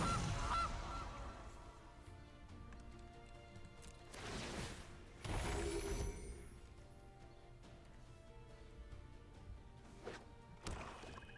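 In Magic: The Gathering Arena, a Gilded Goose card gives a couple of synthetic honks among thuds and crashes from game effects, over a busy layer of background game sound.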